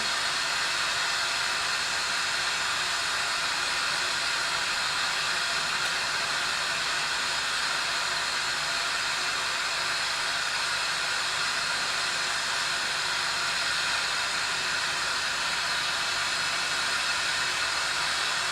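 A glassworking torch flame roars steadily while heating a borosilicate marble, a constant close, even hiss with no breaks and no voices.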